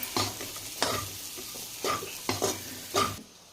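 Salt is stirred into a field bean curry in a sizzling pan. A spoon makes several close, rhythmic scraping strokes over a continuous frying hiss, and the sound stops abruptly near the end.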